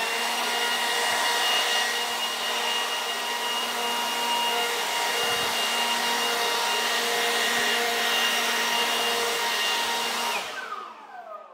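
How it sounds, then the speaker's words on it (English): A leaf blower runs steadily and loudly, blasting leaves and debris off garage flooring tiles, then cuts off and winds down near the end. "let's go ahead and take a blower, just blow these off real quick and get all the junk off of them"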